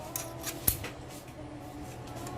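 Scissors handled during a restoration job, giving a few sharp metallic clicks and snips, one louder near the start, over a steady low background hum, close up with no talking.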